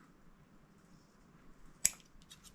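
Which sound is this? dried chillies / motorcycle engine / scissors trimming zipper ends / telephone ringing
scissors trimming zipper ends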